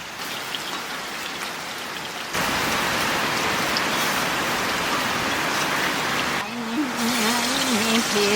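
Monsoon rain falling steadily, a dense close hiss of drops on surfaces that swells sharply louder after a quiet start, with a voice briefly heard near the end.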